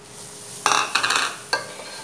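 Onion sautéing in a pan with a pinch of garlic for a penne in Parisienne sauce, soft sizzling broken by a few bursts of stirring and utensil scrapes against the pan.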